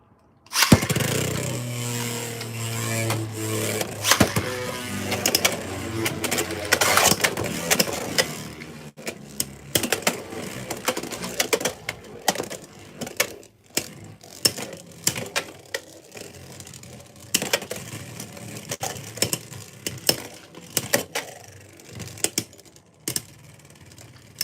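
Beyblade X tops, including Antler Stag and Reaper Incendio, whir loudly as they spin up, then rattle with sharp, uneven clicks and clashes that grow sparser toward the finish.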